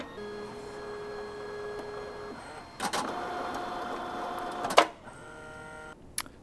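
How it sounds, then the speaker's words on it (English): An HDP6600 card printer prints a test card: a steady whirring feed with sustained motor tones, then a louder grinding mechanical pass, a sharp clack and a final click, close and clear. "We're going to print a test card from our 6600 to give you an idea of how those cards look coming out of the printer."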